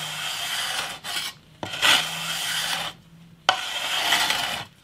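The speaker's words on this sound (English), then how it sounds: "switch to some 180 grit on this leveling beam" Fret rasping on a bass guitar, 180-grit abrasive on a leveling beam drawn over the metal frets in three long strokes with short pauses between, close and steady, no voices.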